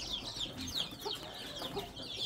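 Hens clucking on a farm where a brood of chicks has hatched, several short clucks in an irregular rhythm at moderate distance, with no talk over them.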